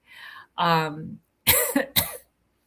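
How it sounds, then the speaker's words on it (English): A person coughs hard several times up close, loud harsh bursts with a throat clear, between brief spoken sounds. "Jeez, I was like coughing hard too."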